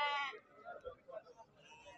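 Sheep bleat at a small-livestock market in Ceyhan, one clear close bleat at the start followed by fainter calls, with people talking over the animals.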